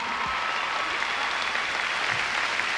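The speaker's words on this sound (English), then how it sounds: "Let's give a big round of applause." Rodeo audience applauding in an arena: a thick, continuous roar of clapping from a large crowd, loud and unbroken over about three seconds.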